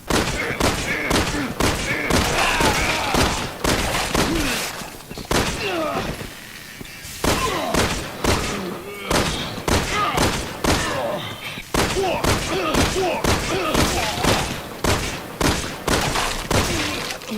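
The Wing Shooter handgun in Resident Evil 6 fires repeatedly at a J'avo enemy. Rapid bursts of sharp shots come in quick succession, separated by short pauses.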